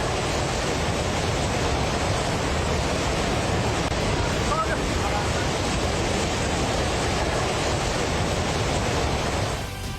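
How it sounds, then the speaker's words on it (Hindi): Flash flood water rushes in a continuous, dense, loud roar like heavy surf during a disaster in Nepal near the India–China border, steady for nearly the whole stretch before easing slightly at the end. "अचानक इमारत के पीछे से आई सैलाब की विनाशकारी लहरें और मच गया कोहराम"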